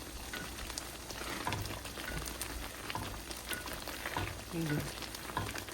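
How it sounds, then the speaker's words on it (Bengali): A thickening milk cake mixture is stirred in a pan, giving soft scraping and faint bubbling at low volume, with a few sharper spoon clicks scattered throughout. "এখন কিন্তু খুব ঘন ঘন নাড়তে হবে, নতুবা নিচে লেগে যেতে পারে।"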